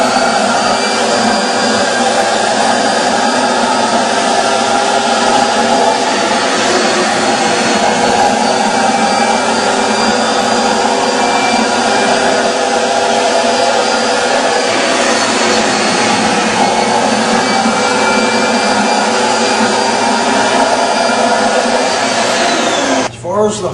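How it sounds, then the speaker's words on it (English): A Steamin Demon carpet extractor runs with its defoaming system sucking defoamer into the recovery tank, a loud, steady high-pitched vacuum whine sustained throughout before cutting off at the very end. "using the defoaming system, by hitting this button, it sucks that defoamer into that recovery tank, killing that soap."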